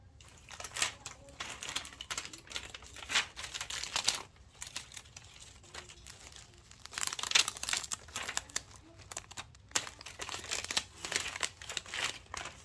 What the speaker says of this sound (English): So let's pull this vinyl up and see, did it work?